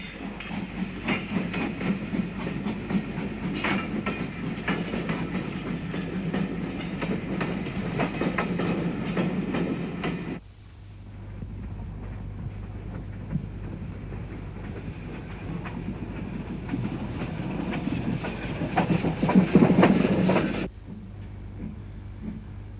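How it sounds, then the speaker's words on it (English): A steam locomotive on a heritage railway hauls a rake of restored Southern Railway coaches, rumbling and clattering steadily with hissing steam, growing louder, breaking off, then returning with a rising chuff near the end. "Today it's hauling a fine collection of Southern Railway coaches"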